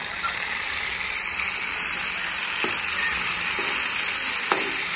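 Tomatoes land on browned onions in a hot pan, giving a loud, steady hiss of sizzling with faint stirring clicks throughout and no voices.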